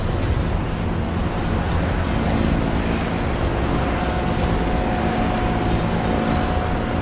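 TAI T129 ATAK attack helicopter flying a display at the Dubai Air Show 2017, a loud, continuous roaring drone of engine and rotor that holds steady throughout.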